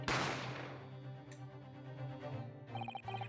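A gunshot effect from The Great Ace Attorney Chronicles video game: one sharp, loud crack at the start that fades into a ringing tail, with a steady low game hum and brief chiming tones later.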